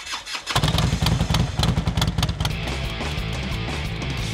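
A Harley-Davidson motorcycle engine fires up and runs with a loud, uneven loping thump, pulsing rapidly before settling into a steadier idle rumble.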